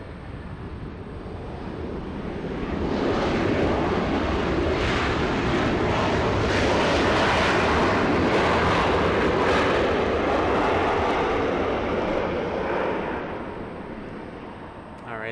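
A Delta Airbus A319 takes off from Los Angeles airport, its jet roar swelling into a loud broad rumble that holds for several seconds, then slowly fades as it climbs away.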